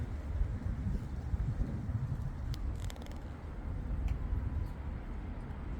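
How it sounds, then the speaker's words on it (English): Steady wind buffets the microphone, a continuous low rumbling roar with no pauses and a few faint clicks. "It's windy, I'm finding it difficult to focus."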